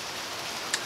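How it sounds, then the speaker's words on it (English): Rain on a gloomy October day, a soft, steady wash of patter with one faint tick near the end, heard with no voice. "it is a gloomy, rainy day in October at Sandwich Tribunal headquarters"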